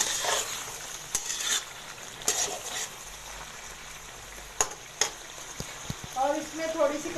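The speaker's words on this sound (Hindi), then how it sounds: "अभी हम इसमें सब्ज़ मिर्चें शामिल करेंगे।" Stirring green chilies into melted tomatoes frying in a pan for chicken karahi, with a soft sizzle under scattered utensil clinks and scrapes against the pot.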